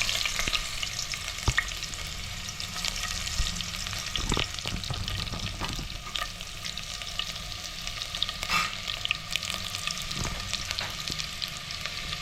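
Chopped onions hit hot oil with mustard seeds while cooking Kerala sadya-style sambar, giving a steady, close sizzle and crackle throughout, with occasional clinks and scrapes of stirring.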